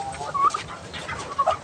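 Chickens cluck in short bursts on a farm, with ducks and a turkey kept nearby; a few sharp calls stand out over a steady background of soft fowl chatter.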